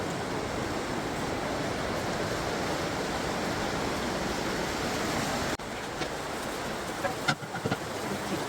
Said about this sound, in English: Definitely raining today.